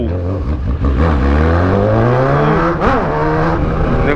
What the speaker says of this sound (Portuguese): Acelera aí a moto, Bruno!